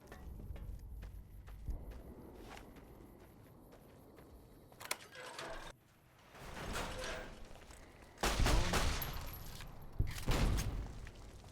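Explosions from an enemy blowing up in Fallout New Vegas come as several loud, broadband bursts among clattering game effects and footsteps, with quieter stretches between them.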